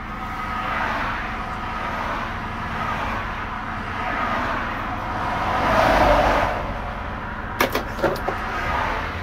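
Cars on a road roll past a stopped vehicle, a broad steady road rush swelling toward the middle, followed by a few sharp clicks near the end.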